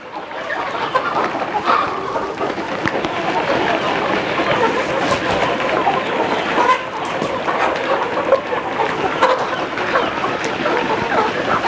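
A large flock of chickens clucks and chatters nonstop inside a poultry flock house on a deep-bedded farm floor, forming a loud, dense, continuous din with no gaps throughout.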